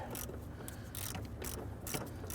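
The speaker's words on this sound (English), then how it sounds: "Right up here we have a 10mm bolt. You can use our socket extension and 1/4" ratchet." Quarter-inch ratchet with a socket extension loosening a 10mm bolt on a 1994-2004 Ford Mustang, a rapid series of crisp clicking pawl bursts in repeated strokes, close and clear with no talking.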